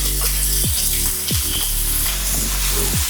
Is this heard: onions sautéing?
yes